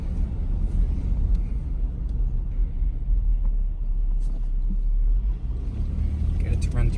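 A 2001 Buick LeSabre driving around the block at low speed, heard from inside the car as a steady low road rumble and engine hum, with faint rattles and a brief knock near the end.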